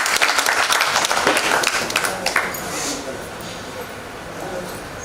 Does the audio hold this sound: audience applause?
yes